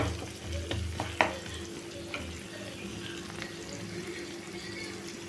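Onions and spices sizzle and fry in a pan for a potato and green pea curry. A low, steady crackle runs throughout, with a few soft stirring clinks near the start.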